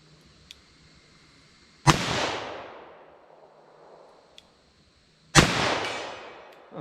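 Two loud, sharp handgun shots from 9mm and .38 Special pistols loaded with Winchester defense ammunition, fired several seconds apart outdoors, each followed by a long, fading echo.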